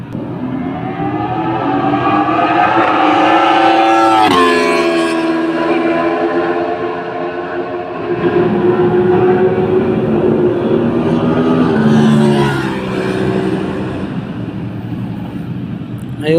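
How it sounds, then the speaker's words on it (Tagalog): An Aprilia RS660 motorcycle passes on a race track, its engine note rising and falling in loud sweeping pitch changes, with wind buffeting throughout and a second fast pass near the end. "dumaan yung RS660 natin na Aprilia."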